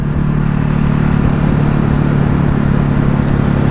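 A Ducati Hypermotard 950SP motorcycle engine drones loud and close in a steady, even rumble, holding constant throughout with no talk.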